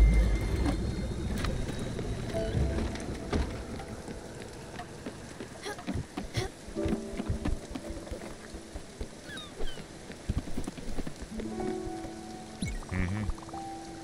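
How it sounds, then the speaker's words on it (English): Steady rain in the video game Spiritfarer hisses throughout, layered with soft tonal game sounds and scattered splashy clicks, moderately loud and continuous. "Rain really ruins the day, doesn't it?"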